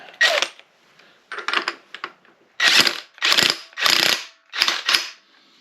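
A power wrench spins the crank nut off a Model A engine in several loud, close, rattling bursts of about half a second each, separated by short pauses.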